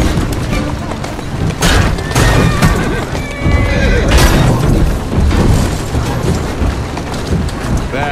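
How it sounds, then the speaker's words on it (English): A horse neighs loudly over a busy soundscape in the video game Assassin's Creed Syndicate, with hoofbeats and deep booms, the whinny rising clearly above the noise. "Who's a good horse?"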